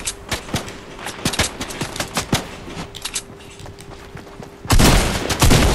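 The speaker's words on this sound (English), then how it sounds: "people are shooting" Gunfire in the Fortnite video game, a scattered run of sharp distant-sounding shots at an uneven pace, followed by a louder, denser roaring burst near the end.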